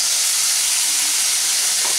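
Onion paste frying in a pan for an egg curry, a continuous bright sizzle and hiss with no pauses, close and fairly loud, no talking.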